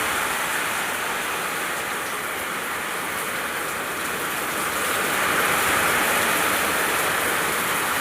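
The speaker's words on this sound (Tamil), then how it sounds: "ரொம்பவே நல்லாவே மழை வந்துருச்சுங்க, கனமழையா." Heavy rain pours in a dense, steady roar outdoors, with the wind driving it from east to west. It sounds close and constant, with no voices.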